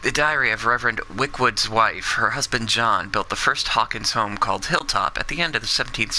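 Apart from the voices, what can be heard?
No everyday noise stands out behind the speech.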